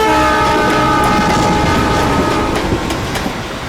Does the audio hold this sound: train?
yes